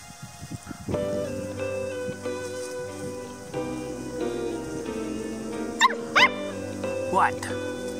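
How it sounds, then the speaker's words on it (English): Puppies yip and whimper nearby with short high cries near the end, while a person talks to them over the top. "Where's all the puppies?"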